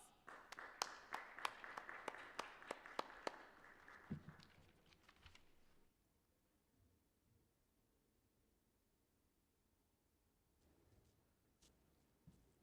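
Scattered applause from a crypto conference audience rises briefly, then fades out after a few seconds, leaving quiet room tone with a few faint claps near the end.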